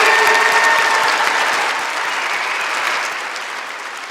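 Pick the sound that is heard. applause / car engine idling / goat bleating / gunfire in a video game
applause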